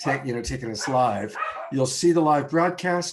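Several house dogs barking and yipping excitedly indoors, the barks loud and close and mixed in with a person talking over them.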